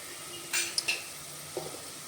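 Turmeric, dhana-jeera powder, red chili and store-bought veg biryani masala sautéed and stirred in a pan, with a few brief, soft spoon scrapes and light sizzle at close range, then a fainter stir near the end.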